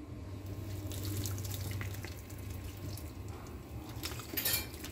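Blended tomato, onion and chili sauce poured into a cooking pot makes a continuous liquid stream, close and moderately quiet, with a few light clinks near the end.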